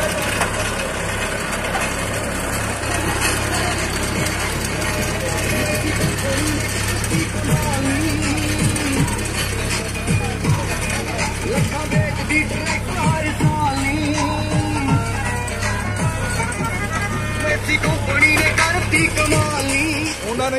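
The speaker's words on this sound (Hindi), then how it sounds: "और पचास एच वाला जो ट्रैक्टर है ये" A Massey Ferguson 50 HP tractor pulls a cultivator carrying several standing men, its engine droning steadily with clanking mechanical rattles, while people talk faintly in the background.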